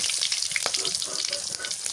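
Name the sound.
fish frying crisp in a pan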